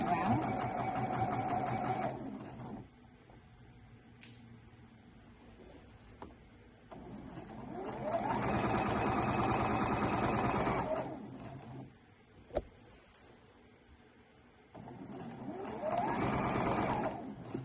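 A sewing machine stitches fabric for a Heron top in several sustained runs of fast, steady whirring, pausing between passes with small clicks, close up, while a person talks over parts of it.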